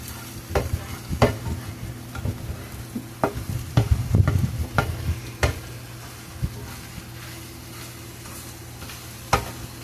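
Eggs fry gently in a pan on low heat, with a steady soft sizzle broken by repeated clicks and taps of a utensil, close and moderately loud.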